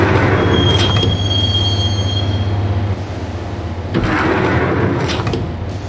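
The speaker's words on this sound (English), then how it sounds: "the train doors had already shut behind me, and I was in for the ride" Train rolling along rails in the game Max Payne, a steady loud rumble with a thin high wheel squeal early on and a brief dip before the roar swells again, no voices.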